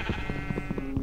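Sheep bleating in Minecraft on Xbox One, a series of short wavering bleats overlapping one another at a steady close level, several animals calling in quick succession with no talk over them.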